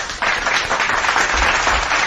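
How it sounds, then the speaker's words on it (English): A crowd applauds in a brief, dense burst of clapping that starts suddenly and holds steady for about two seconds. "let's give a big round of applause to everyone who made it in the chat tonight"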